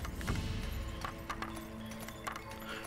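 Faint clip-clop of cavalry horse hooves in the Age of Empires strategy game, quiet and busy under a dense, noisy game soundscape.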